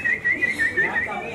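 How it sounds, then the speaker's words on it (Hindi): An audience at the announcement event for an Indian beauty pageant whistles in a shrill, warbling tone, repeated in quick bursts, with faint voices underneath. "सीटियाँ भी अच्छी लग रही है।"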